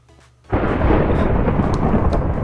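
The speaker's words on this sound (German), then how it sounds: "Nee, der Blitz kommt nicht bis hier runter." A loud thunderclap from a thunderstorm in Minecraft bursts in and rolls on as a dense, sustained rumble, with rain noise mixed in and no talking.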